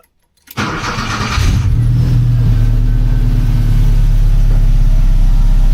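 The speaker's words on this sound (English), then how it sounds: "so I'll start it up and see if those lights all go out" A 1982 VW Westfalia camper engine cranks briefly after a moment of silence, catches and settles into a steady, loud running idle close by.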